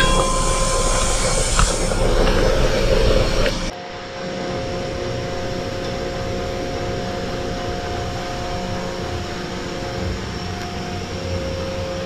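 A Shinko steam turbine spins up toward 180 RPM, giving a loud, steady mechanical roar with a faint whine; the level drops suddenly after a few seconds and then stays constant.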